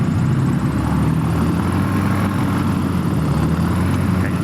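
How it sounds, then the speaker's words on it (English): A motor glider's propeller engine hums steadily and close as power is advanced for taxiing, a continuous droning tone with no voices over it. "right now start to advance the power to taxi out."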